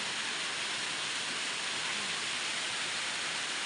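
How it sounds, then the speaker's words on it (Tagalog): Steady, dense hiss of heavy rain pouring down continuously, loud and even throughout with no voices, with children playing in it. "Lamin nagpusog na ulan"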